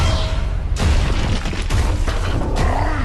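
Explosions in a Transformers movie trailer, a dense rumbling boom with a few sharp bursts and crackling debris, loud and continuous, with no talk.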